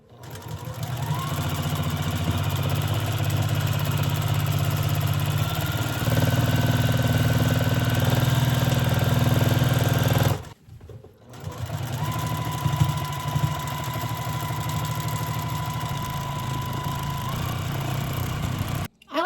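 A sewing machine runs steadily while free-motion quilting a meander stitch on a quilt, a loud close mechanical hum and whir that stops briefly partway through, then resumes at a steady pace.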